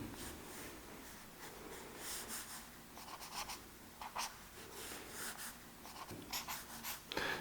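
A marker and pencil sketching lines on paper for a car design drawing, giving soft continuous scratchy strokes with short pauses and uneven rhythm, close and quiet, with no speech.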